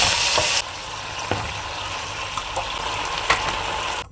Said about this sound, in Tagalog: Igigisa lang naman natin itong ating kangkong sa sibuyas at lalagyan natin ng oyster sauce.